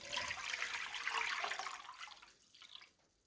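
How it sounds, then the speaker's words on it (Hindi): Water pours steadily and fairly loudly for a couple of seconds, readied for steaming chicken seekh kebabs, then tapers and thins toward the end; no one speaks. "पानी डालें,"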